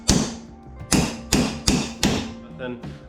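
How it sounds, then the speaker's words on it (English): Sheet metal parts for an RV-7A aircraft being shaped with a hammer: about five sharp, ringing blows spaced at uneven intervals, close and clear. "some persuasion with the hammer and hitting it in the right spot"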